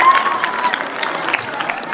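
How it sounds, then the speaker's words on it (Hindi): Children clap together for a child doing a headstand at a yoga session, a moderate burst of scattered hand claps with some crowd murmur, brief and fairly near. "इस बच्चे के लिए एक बार जोर से ताली बजाएंगे सारे बच्चे।"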